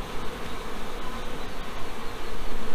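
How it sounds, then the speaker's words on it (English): A dense, steady buzz of many honey bees (worker bees at a hive) fills the air, loud and close, humming on without pause. "We're going to try to get these worker bees out of there."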